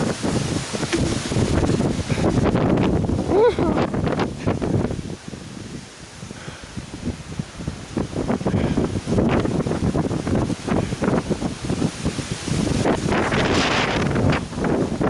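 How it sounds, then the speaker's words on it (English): Steady wind buffets the microphone throughout on the Appalachian Trail in Shenandoah National Park in October, a loud rumbling roar that dips briefly in the middle before gusting back up. "It is windy"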